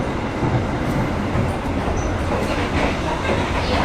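Steady rumbling rail noise inside an Indonesian executive-class train running from Jakarta to Malang, with a constant wheel-on-track roar and faint rattles, close and continuous without speech.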